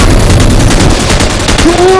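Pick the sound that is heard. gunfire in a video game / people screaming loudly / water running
gunfire in a video game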